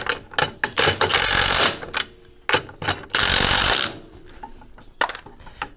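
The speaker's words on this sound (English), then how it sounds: "Torque to manufacture specifications." Bolts on a Can-Am X3 rear steer kit being tightened to spec with a ratcheting tool, rapid ratchet clicks and metallic clatter in loud bursts up close.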